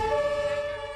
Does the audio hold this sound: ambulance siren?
yes